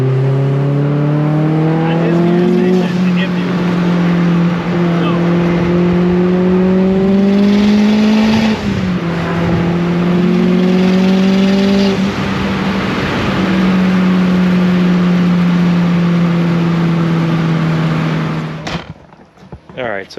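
Mazdaspeed 3 engine with a boost leak on a test drive, a steady droning note holding level and rising slightly in pitch, loud and close throughout before cutting off near the end; voices are heard in the background.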